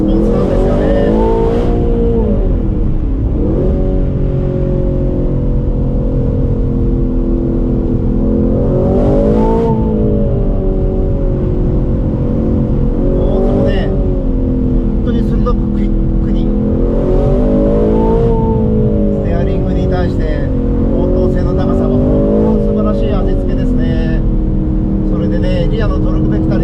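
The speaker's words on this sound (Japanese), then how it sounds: "このトルクフルな V8 エンジンがね、素晴らしいレスポンスなんですよね。" Aston Martin Vantage Roadster's torquey V8 on a winding road, loud and close, repeatedly surging up through the revs and easing off in rising and falling waves, with brief voice sounds over it.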